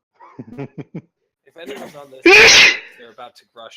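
A single loud, sharp human sneeze bursts out in the middle of casual conversation, close to the microphone. People talk before and after it.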